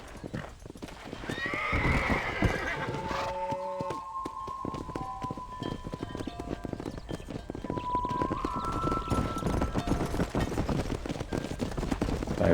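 Horse in the Western open-world game Red Dead Redemption, steady clip-clop of hooves running throughout with a couple of clear neighs and whinnies in the middle, busy with ambient game noise and no talking.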